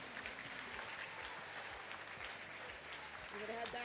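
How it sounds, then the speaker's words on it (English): Applause from an audience at a school Decision Day 2024 celebration, steady dense clapping throughout with some voices in the crowd, swelling slightly louder toward the end. "So one more round of applause,"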